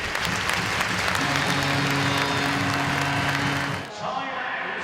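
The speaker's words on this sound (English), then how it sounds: "you stand for 47 seconds of applause as we pay respect to Adam's memory here this evening" Ice hockey arena crowd at a Cardiff Devils game gives a standing ovation in memory of Adam; sustained loud clapping with a low tonal hum under it, dipping briefly near the end before continuing.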